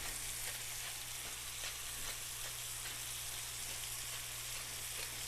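Chicken sizzles steadily in a hot pan while browning for a Brazilian chicken stroganoff, seasoned with salt and pepper; a close, continuous crackling fry with no one talking.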